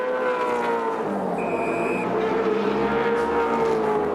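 Racing cars in the pits during stops at the 1987 Bathurst 1000, engines droning and revving in a sustained mechanical roar with a brief high whine, loud and continuous.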